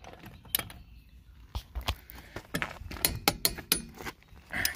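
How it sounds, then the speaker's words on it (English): A torque wrench cracks loose the lug nuts on a BMW E30 front wheel, giving a series of sharp clicks, creaks and metallic ratchet-like snaps in uneven bursts, close and alone without talk. "I'm actually gonna go ahead and use my torque wrench, take my lugs off."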